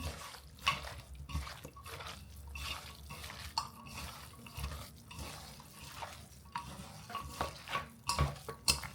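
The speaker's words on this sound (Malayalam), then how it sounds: "ഇത് വെച്ച് ഞാനിങ്ങനെ ഒന്ന് ഇളക്കാൻ പോകണം ഇതെല്ലാം കൂടെ ഒന്ന് മിക്സ് ചെയ്യാൻ പോകണം" A hand mixes Kottayam-style kappa biryani, tapioca with bone-in meat and spice powder, in a bowl, making rhythmic soft squelches and wet slapping bursts, close and fairly quiet.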